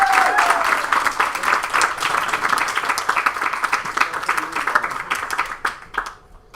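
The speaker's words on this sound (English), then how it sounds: "A round of applause for our MCs." Wedding guests burst into a round of applause for the MCs, dense clapping holding steady for several seconds before tapering off to scattered claps and quiet.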